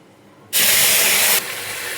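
Onion and ginger paste hits hot oil already seasoned with cardamom and bay leaf after fried rohu fish is lifted out, bursting into a loud, close sizzle that then settles into a steady frying hiss.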